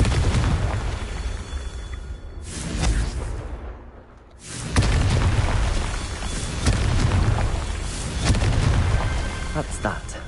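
A Confringo spell blasts in a Harry Potter video game, a heavy booming explosion with a deep rumbling burst, a brief lull, then further loud blasts and rumble that keep going to the end.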